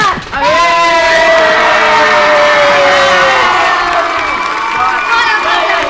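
Crowd at a boxing event cheering loudly, a dense roar of shouts and whoops that rises sharply and holds steady, close and intense, with rising and falling yells standing out above the mass of voices.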